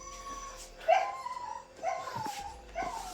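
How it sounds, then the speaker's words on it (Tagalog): A dog yelps and barks in short bursts against a noisy, humming background, with whimpering notes between calls. "Maingay pa yung aso dyan."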